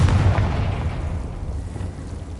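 A Confringo blasting spell bursting in Hogwarts Legacy, a deep booming explosion that starts strong and decays into a lingering low rumble over two seconds, heard alone.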